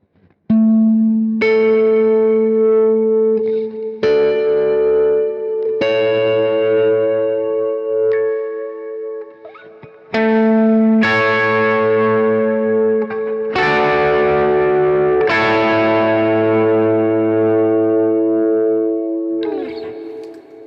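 Electric guitar through an overdrive pedal playing a worship-song chorus, gritty distorted chords struck one after another and left ringing with ambient effects, loud and close, with a brief dip midway before strumming resumes.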